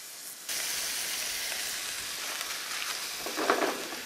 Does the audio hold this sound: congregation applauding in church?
no